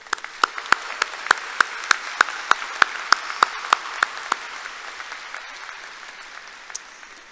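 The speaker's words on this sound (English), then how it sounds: "Let's give them a round of applause." Scattered claps from a graduation audience at a university commencement, sparse and distinct rather than a full roar, fading out over several seconds with no one talking.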